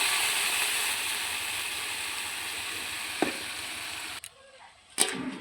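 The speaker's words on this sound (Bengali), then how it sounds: "তারপর ভালো করে নেড়ে দিয়ে দিলাম একটু জল।" Steady sizzle of chilli powder frying in a pan with ginger-garlic paste, then a splash of water and a couple of stirring scrapes that cut the hiss down to a quieter simmer.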